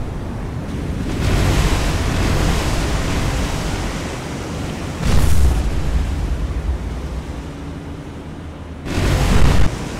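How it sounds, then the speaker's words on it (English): Explosions of cargo ships shelled in the naval game War on the Sea: sustained roaring, surf-like rumble with two sharper, louder blasts swelling in the middle and near the end. "Massive explosions, and it is just disgusting."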